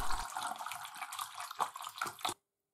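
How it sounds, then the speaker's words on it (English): Water gushes from a tap into a handheld spray bottle being filled, a steady hollow splashing that rises and gurgles for a couple of seconds before cutting off abruptly. "You need one of these sprayers. Fill it with water,"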